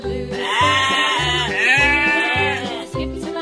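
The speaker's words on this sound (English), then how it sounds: "Sheep." A sheep bleats loudly and close by, a wavering, repeated call with a pulsing rhythm that carries on for several seconds with no other sounds.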